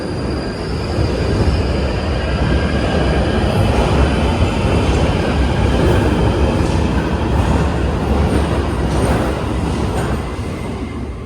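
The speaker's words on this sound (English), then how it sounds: "So this is the first train that's pulled in." A London Underground train runs loud and close as it pulls into the station, a continuous roaring rumble of wheels on track with faint squealing, no voices.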